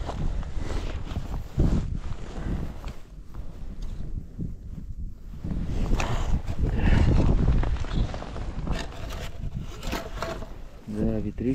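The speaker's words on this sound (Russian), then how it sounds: "Да, ветрище, конечно." Strong wind buffeting the microphone during a snowstorm on a frozen lake while ice fishing for pike with tip-ups, loud rumbling gusts rising and falling, with people talking throughout.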